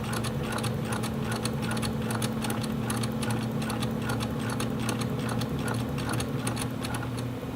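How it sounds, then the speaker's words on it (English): A sewing machine runs a basting stitch along the edge of fleece fabric in one continuous, steady mechanical whir with a fast, even rhythmic clatter, close and alone throughout. "And there's our basting stitch along the edge."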